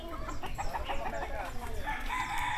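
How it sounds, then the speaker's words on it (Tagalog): Chickens on a tropical island farm in Quezon cluck and crow in a busy, overlapping chorus, with a rooster's crow rising clearly near the end over steady background noise. "Daming manok dito guys."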